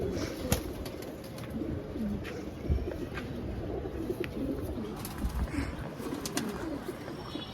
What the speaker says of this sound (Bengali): সবগুলো কবুতর আপনাদের আজকে দেখাবো